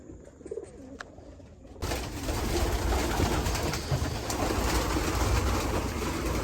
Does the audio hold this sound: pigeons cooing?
yes